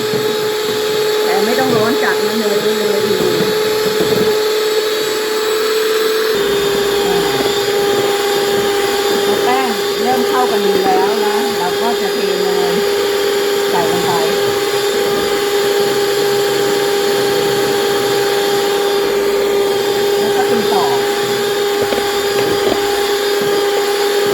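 Waffle batter being beaten until the ingredients combine, heard as a steady, continuous electric mixer whine that runs the whole time without pause.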